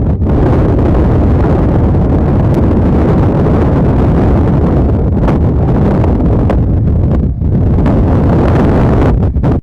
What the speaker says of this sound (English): This wind is so strong it sends an entire swimming pool flying through the air.